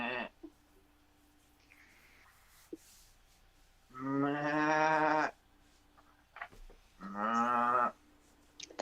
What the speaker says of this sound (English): That sounds like a cow.